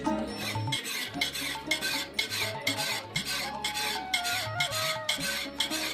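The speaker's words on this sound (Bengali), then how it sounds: "দৈনন্দিন ব্যবহারিক কাজের ব্যবহৃত দা বটি ধার দিচ্ছেন কামার" A blacksmith at a rural village market sharpens a dao and a boti blade with steady, repeated rasping strokes that are close and even in rhythm.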